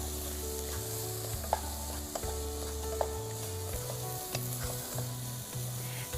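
Koi fish curry sizzles and fries steadily in a pan, a dense continuous crackle with occasional soft knocks of stirring, close and even in level, no voices heard.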